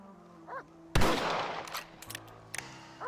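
Rifle gunfire in the video game Red Dead Redemption, a sudden loud shot with a lingering echoing tail, then a few sharper, quieter cracks, along with faint game sound effects.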